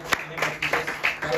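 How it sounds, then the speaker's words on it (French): A church congregation at a prayer and deliverance service applauding, quick uneven claps close by in a short burst, with talk mixed in. "je voudrais qu'on acclame encore une fois"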